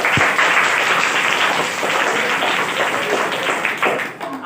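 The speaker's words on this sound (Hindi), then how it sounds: "गुरुजी के लिए तालियां" A classroom group applauds their teacher with steady, dense clapping that holds at full level for several seconds before thinning out at the end, with some voices mixed in.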